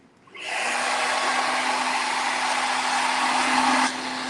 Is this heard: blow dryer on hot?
yes